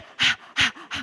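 A voice imitates a panting dog: three quick, forceful breaths, near and clear, as people breathe in rhythm during a group exercise at a talk.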